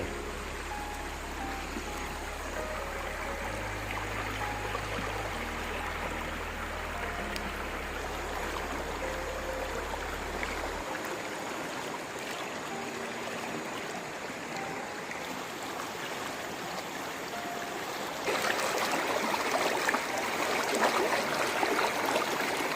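A forest stream flows steadily over rocks near a waterfall, a soft, continuous rushing that grows a little louder and brighter near the end.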